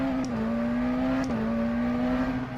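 A simulated McLaren Senna with a 4-litre twin-turbo V8 in the rFactor 2 racing game holds a steady, droning engine note that dips slightly in pitch, with two faint ticks, and no talk over it.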